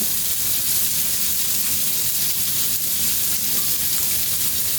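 Chopped onion softening in a hot pan over medium heat gives off a steady, loud, even sizzle and hiss that runs without a break and without talk.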